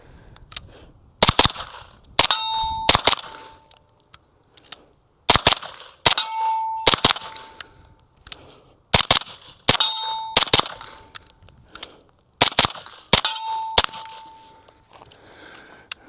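SIG MPX 9mm shots ring off steel targets in quick clusters: sharp reports each followed by a bright metallic clang, with short pauses between the groups of shots.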